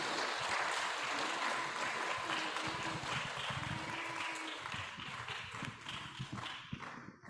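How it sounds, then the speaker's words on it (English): An audience claps steadily to welcome musicians at a music and meditation event, dense sustained applause that thins out slightly toward the end. "Please give them a big round of applause."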